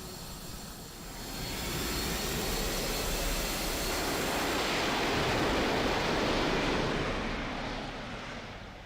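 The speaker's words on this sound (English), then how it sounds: "The jet is very loud." A loud, steady jet engine roar from Batman Arkham Asylum swells in and holds as a broad, close rushing drone for several seconds before easing slightly, with no talk over it.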